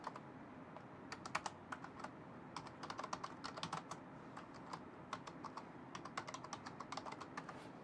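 Quiet typing on a computer keyboard, bursts of light rapid key clicks with short pauses between them, faint and close, no talking.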